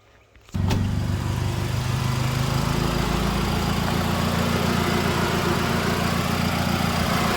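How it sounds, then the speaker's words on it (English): A steady mechanical whir of car cooling fans starts abruptly after a brief quiet moment, then runs loud and constant with a low engine drone beneath from a turbocharged Mitsubishi Mirage 4G15. "I'll go ahead and turn on the car so you guys can hear the fans"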